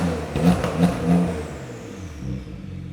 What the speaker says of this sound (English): the turbo sounds on this thing is insane